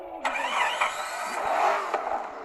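A black car in a Minecraft car mod, a video game, starts its engine with a sudden burst after a short silence, then runs with a steady, fairly loud mid-pitched roar for about two seconds.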